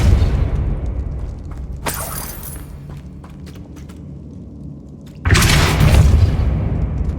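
A Depulso force spell blasting a precariously hanging object in Hogwarts Legacy, landing as a loud, heavy boom with crashing debris after a quieter stretch of ambient game sound, with a smaller impact burst earlier on.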